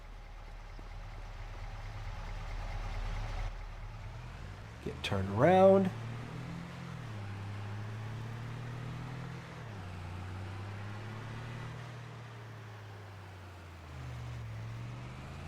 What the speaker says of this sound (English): Let's hop back in the truck.